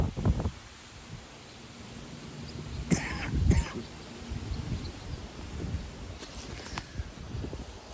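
Wind blowing through trees outdoors: a steady broad rushing hiss with gusty buffeting on the microphone and rustling, with a few short coughs or throat sounds.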